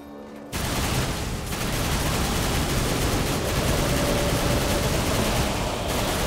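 Rapid gunfire from a weapon in the third-person action game Darksiders 2 forms a dense, unbroken roar of shots lasting several seconds, loud and close, with no talk over it.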